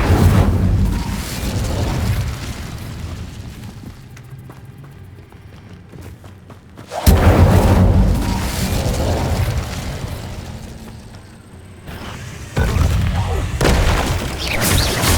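Fiery spell blasts in the Hogwarts Legacy video game, heavy booming bursts that erupt loudly and roll on in several waves, with a player speaking over the action.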